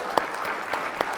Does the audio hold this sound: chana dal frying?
no